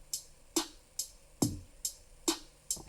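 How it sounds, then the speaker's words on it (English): A basic programmed drum beat from a Roland Verselab MV-1, with kick, snare and hi-hat in an even, sparse pattern of crisp hits, quiet and alone. "The most basic drum beat sounds like this."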